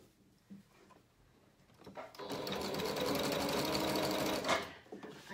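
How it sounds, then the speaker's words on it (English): Sewing machine stitching a folded 5/8-inch hem on a McCall's 7061 garment, a faint start followed by a steady, close whirring run of about three seconds before it slows and stops. "just folding it over 5/8 of an inch and stitching"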